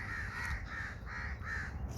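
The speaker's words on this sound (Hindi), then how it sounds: "परिंदों की आवाज़ें अभी कौवे बोल रहे हैं" Crows cawing on the shore of Rawal Dam, a series of five evenly spaced harsh caws at moderate distance over quiet low background rumble.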